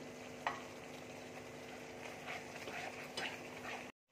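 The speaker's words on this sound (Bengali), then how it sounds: "মশলাটাকে দেখো খুব ভালো করে ভেজে নেব।" Ground spices with turmeric, coriander, salt and Kashmiri chilli powder frying in a pan for dahi paneer, a soft steady sizzle with a couple of spoon taps and scrapes, fairly quiet and close.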